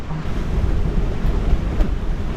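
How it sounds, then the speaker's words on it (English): Strong wind gusting to around 30 knots roars steadily across the microphone on a Beneteau 423 sailboat at sea, with broadband rushing noise and surf-like wash continuous throughout, no voices. "It's blowing, gusting 30 knots out there."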